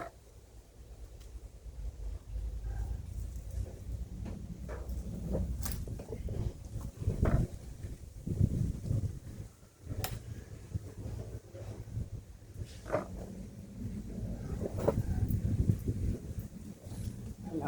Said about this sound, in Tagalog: Naririnig nyo naman siguro yung ano ng hangin.